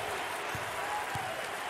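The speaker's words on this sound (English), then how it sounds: "Look at the student section, Dick, cheering on their classmates, their peers." Student section crowd at a college basketball game between Tulane and Houston, a dense wash of applause and cheering filling the arena, steady and loud throughout with no clear voices.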